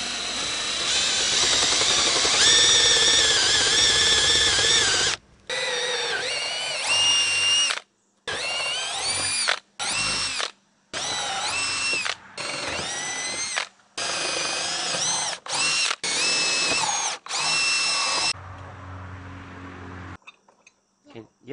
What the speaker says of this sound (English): I'm gonna go ahead and drill these holes in the door